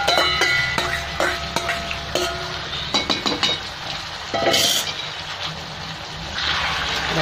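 Marinated chicken goes into a pan of fried onions for Bengali chicken kosha, with a run of sharp metal clinks and scrapes from a utensil over a steady sizzling hiss, followed by a brief louder burst of clattering.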